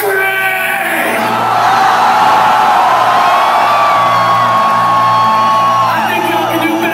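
Concert crowd at a show in St. Petersburg, Russia, screaming and whooping in a loud, sustained roar that swells over several seconds, with a steady low musical drone underneath.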